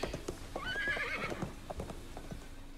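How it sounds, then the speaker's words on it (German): Horse trotting and whinnying in the Desperados 3 video game, a loud high neigh early on over rhythmic hoof clops that continue steadily at moderate distance, with little else around. "Das Pferdchen ist ein bisschen steif angeloppt."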